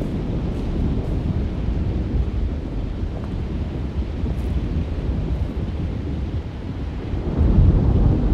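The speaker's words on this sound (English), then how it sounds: "Just keeping an eye out for the storm." A thunderstorm rumbles in the 2024 video game Alone in the Dark: a steady low roar of wind and rain with deep thunder that swells louder near the end, no voices.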